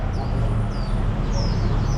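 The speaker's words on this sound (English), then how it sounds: "I love all the sounds of the birds." Caged birds at a Macau square give thin, high chirps and whistles, several quick calls set against loud, constant outdoor noise.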